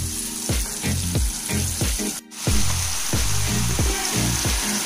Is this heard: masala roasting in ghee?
yes